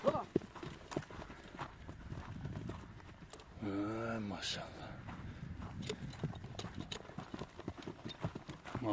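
A horse walks with steady clip-clopping hooves, mixed with nearby people talking almost throughout, and a brief tonal call rises partway through.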